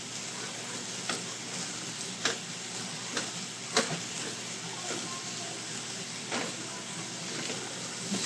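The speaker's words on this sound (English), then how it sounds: "Just going to stir it up like this for about 15 minutes." Ingredients sizzle steadily in a skillet as a utensil scrapes and taps the pan every second or so, the frying hiss continuous and close, with no talking.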